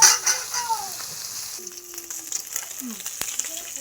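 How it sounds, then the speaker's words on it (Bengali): Fish coated in turmeric and salt sizzles and fries in hot oil in a kadai, a steady close crackle that starts loud and settles to a softer continuous sizzle. "কড়াইতে তেল দিয়ে দিয়েছি গরমও হয়ে গেছে এবার আমি মাছগুলো ভেজে নেব"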